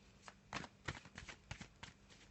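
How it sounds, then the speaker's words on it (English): A tarot card deck is shuffled close up, in a quick series of soft riffling bursts and light slaps at an uneven rhythm against a quiet background. "So I'm just going to give that a little bit of a shuffle."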